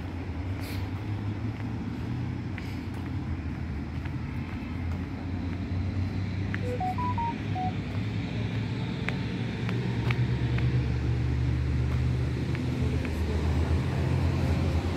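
Steady road traffic with many cars passing on a busy street in Muscat, Oman, a continuous low engine rumble and tire hiss heard up close, growing slightly louder toward the end, with no talking.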